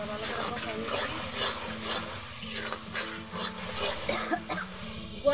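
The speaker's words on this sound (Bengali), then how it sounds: "মশলা কষানো হয়ে গেছে, মশলা ভালো করে কষাই নিচ্ছি" Spices for a river boal fish curry with potato and cauliflower are stir-fried in a pan, a close sizzle punctuated by scraping and stirring strokes, with a voice talking over it.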